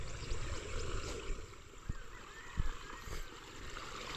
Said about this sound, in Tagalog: Pupunuan natin yung balon. Dapat po maaga pa lang puno ng tubig ng balon.